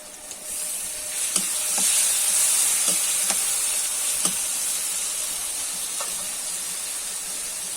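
Boiled mutton mince, cooked with salt and turmeric, fries in a pan with a steady loud sizzle and hiss, while a utensil scrapes and stirs in several soft, scattered strokes.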